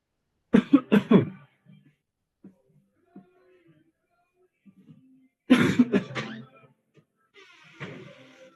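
A person coughs in two bursts, a short cluster of harsh coughs near the start and another after a quiet pause, with faint movement and low murmuring between them in an online class session.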